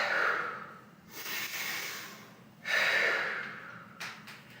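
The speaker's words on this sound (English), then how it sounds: "take a big deep breath" Deep, loud breaths during a strength workout, two long airy inhale-exhale cycles close to the microphone, followed by a short sharp exhale at the end.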